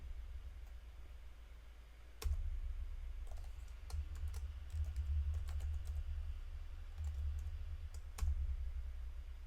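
Someone types a password on a computer keyboard in a quiet room, a run of light, close key clicks with a few sharper taps, over a low steady hum and with no talking.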